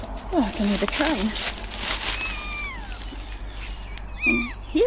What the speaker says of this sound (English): And hear a little cat as well.